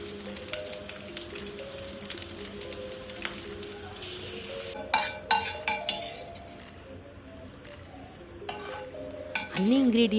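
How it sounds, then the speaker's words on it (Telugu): Green chillies and curry leaves fry in oil in a pan with a soft background sizzle, punctuated by sharp metallic clinks and scrapes of a spoon against the pan, some louder clattering near the end. "ఫ్రై ప్యాన్లో కొంచెం ఆయిల్ వేసుకుని మీ కారానికి తగినట్టుగా పచ్చిమిర్చి అండ్ కరివేపాకు వేసి వేయించుకోవాలి"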